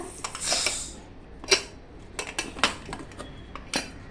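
A pressure cooker being opened after cooking taro leaves: a hiss of escaping steam, then a series of sharp metallic clinks and knocks from the lid and utensils, close and alone.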